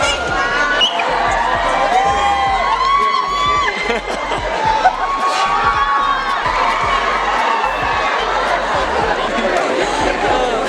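A large street crowd in Cuenca, Ecuador, cheers and shouts for the King of Spain, loud and close, with excited voices, whistles and chatter and a steady rhythmic thumping underneath.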